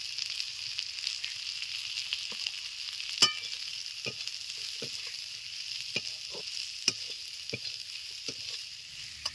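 Cumin, coriander and dry chilli powder frying in a pan, giving a quiet steady sizzle broken by scattered sharp pops and clinks of stirring.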